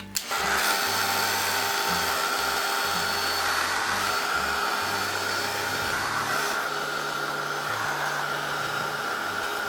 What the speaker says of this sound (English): get the heat gun ready, already warmed up